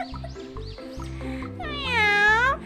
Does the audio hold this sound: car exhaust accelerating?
no